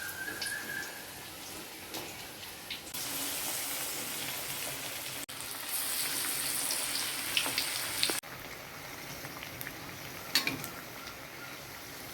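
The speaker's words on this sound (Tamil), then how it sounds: "எண்ணெய் சூடாகிடுச்சு அதில் போட்டு எடுத்துக்கலாம்" Banana flower vada frying in hot oil, a steady close sizzle and crackle that swells louder as more patties go in, then settles to a lighter hiss with occasional pops.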